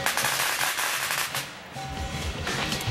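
Firecrackers crackle in dense, rapid strings of sharp pops at a Chinese New Year parade in San Francisco, loud and continuous with a brief lull midway, with no talking.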